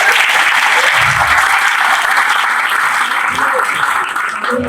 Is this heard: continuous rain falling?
no